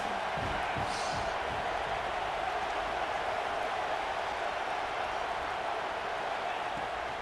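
Stadium crowd noise from an NCAA college football video game, LSU at Auburn: a steady, dense roar of fans holding at a constant level throughout. It sits beneath faint game commentary.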